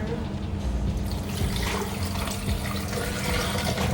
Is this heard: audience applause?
no